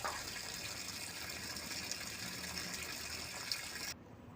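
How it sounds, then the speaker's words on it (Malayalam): A steady gush of running water pours continuously over mangoes being washed, fairly faint, then cuts off abruptly near the end. "മാങ്ങ നന്നായി കഴുകുക നല്ല വെള്ളമൊഴിച്ച് കഴുകി വാലാൻ വെക്കുക"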